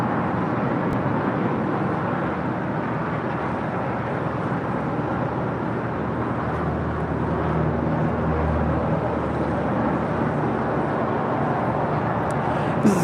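A KLM Boeing 787-10 Dreamliner takes off on a runway, a loud sustained broadband jet roar holding steady throughout with a faint low rumble, no talk over it.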